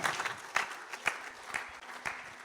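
A church congregation applauding during a sermon, with scattered hand claps that rise in several soft surges. The sound is fairly faint and distant, and no voices stand out over it.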